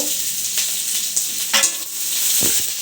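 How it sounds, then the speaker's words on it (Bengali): Onions frying in oil with whole cumin seeds in a pan, a close, steady hissing sizzle broken by a few stirring scrapes, with no voices. "পেঁয়াজগুলো দিয়ে একটু লাল লাল করে ভেজে নিব"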